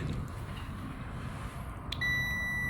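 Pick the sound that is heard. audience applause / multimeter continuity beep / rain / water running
multimeter continuity beep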